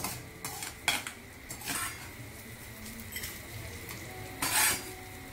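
Dry-roasted rice is scooped out of a pan for rice kheer, with several scattered metallic scrapes and spoon clinks against the pan over a quiet, faint background.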